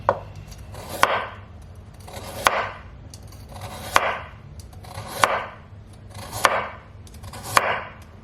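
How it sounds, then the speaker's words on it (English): Knife slicing a carrot crosswise into flower shapes on a chopping board, with six crisp, evenly spaced cuts that ring out clearly at a slow, steady rhythm with nothing else heard. "After that, I'm going to cut it horizontally so it can make these little cute flowers."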